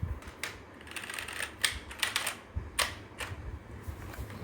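Typing on a Keychron K2 v2 wireless hot-swappable mechanical keyboard with brown switches: irregular runs of crisp, close key clacks with a few louder strokes, and no talking.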